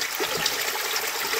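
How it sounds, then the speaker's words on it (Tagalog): Strong, steady gush of very cold spring water flowing straight out of the ground at a village water source, a loud continuous rushing wash with no gaps. "daloy ng tubig"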